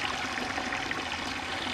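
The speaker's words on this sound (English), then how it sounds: "Next thing we need to do is fill the bucket up halfway with water." Water pours steadily into a bucket being filled halfway for compost tea extraction, a continuous broadband rush and trickle at close range with no speech.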